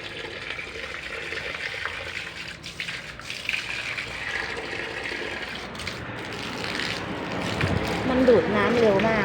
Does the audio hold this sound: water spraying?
yes